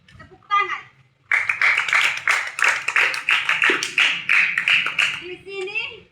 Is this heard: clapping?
yes